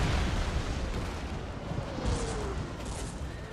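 Artillery fire rumbles through a Napoleonic battle in the Napoleon: Total War Eras mod, as a dense, steady roar of distant booming guns and crackling musketry with no clear single blasts.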